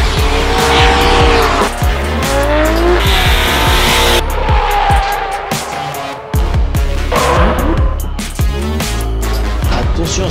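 Drift cars at a French drift championship round at Croix-en-Ternois, engines screaming and revving hard while tires squeal and skid in long overlapping bursts, loud and close throughout.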